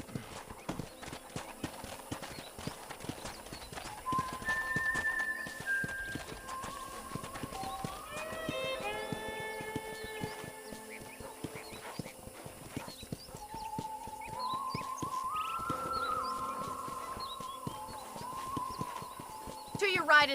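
Steady clip-clopping hooves of a horse at a walk in the video game Red Dead Redemption, with a whinny and a voice speaking over the rhythmic plodding.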